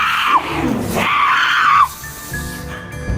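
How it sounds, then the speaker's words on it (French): A boy screams in a French-language audio story as roses turn into snakes and seize him, a loud sustained wavering cry that breaks off, followed by quieter tonal sounds. "Kevin crie."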